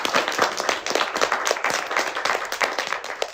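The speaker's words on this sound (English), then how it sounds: "let's give a round of applause for Hair Love." A room of listeners clapping at a children's event, with rapid, fairly loud applause made of many overlapping individual claps that carries on steadily throughout.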